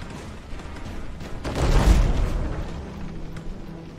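A ship ramming another ship in the naval game Abandon Ship, a deep rumbling crash that swells and fades over a couple of seconds amid background game noise.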